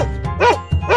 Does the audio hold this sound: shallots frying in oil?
no